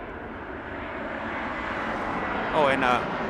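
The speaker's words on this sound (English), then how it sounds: "This is going to be Allegiant Airlines flight AAY34 with service to MFR, Medford, Airbus A319er." Allegiant Airlines Airbus A319 jet airliner at Las Vegas Harry Reid International Airport, a steady distant broadband engine roar that swells slightly near the end, with a brief higher whine on top.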